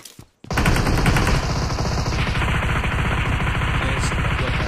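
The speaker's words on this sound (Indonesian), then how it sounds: "Nembak di sana gak ada yang kena sih, orang gila ya." Sustained automatic gunfire from the mobile shooter PUBG Mobile, a rapid, loud rattle of shots running almost without pause after a brief quiet start.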